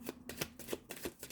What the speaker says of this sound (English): I shuffle these cards a lot between when I do one reading to the next, but also during